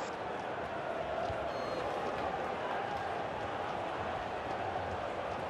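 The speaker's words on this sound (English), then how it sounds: "And the crowd really enjoying it." Steady roar of a stadium crowd in the FIFA 16 football video game, a dense continuous wash of noise with no distinct peaks.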